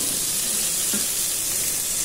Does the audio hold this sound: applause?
no